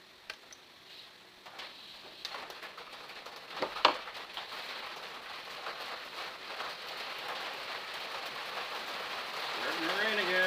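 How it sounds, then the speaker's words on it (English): Steady rain falling on a rural farm in the Philippines, a broad hiss that builds louder toward the end, with scattered ticks of drops and a brief clatter midway. "Starting to rain again, as you can hear."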